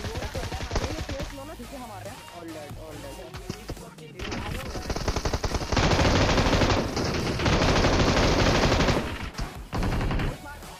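Sustained M249 machine gun fire in a mobile shooter game, loud and close, in long rapid bursts with brief pauses, following a stretch of scattered gunshots.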